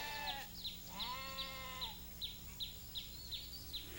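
Sheep bleating on Dartmoor's heather and bracken moorland, several wavering calls close by with soft chirps ticking steadily in the background.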